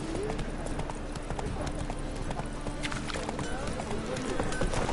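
In the video game Witcher 3, a horse gallops with rapid, continuous hoof clip-clops that come loud and close over a busy mix of in-game ambient sound.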